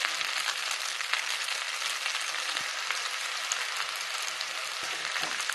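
Vegetable macaroni with soy sauce and tomato ketchup sizzles steadily in a pan as it is stirred, with a constant close frying hiss and faint occasional scrapes.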